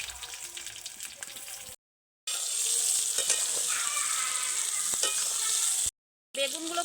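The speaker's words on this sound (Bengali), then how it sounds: "একই তেলে বেগুনগুলো দিয়ে বেগুনগুলো একদম লালচে লালচে কালার করে ভেজে নেব" Eggplant pieces fry in hot oil with a dense, steady sizzle and scattered spatters and bubbling pops, close and moderately loud, interrupted by two brief silent gaps.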